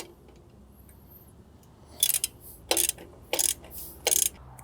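A ratchet wrench tightens bolts on a trailer winch mount, giving four short bursts of rapid clicking close by, spaced with brief pauses, over quiet background hiss.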